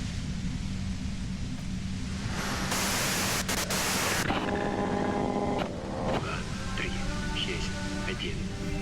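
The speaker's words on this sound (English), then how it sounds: "you can do it through the white noise." A loud burst of hissing white-noise static, lasting under two seconds, cuts in from the Disco Elysium game soundtrack over a low steady hum, followed by soft tonal ambient sounds.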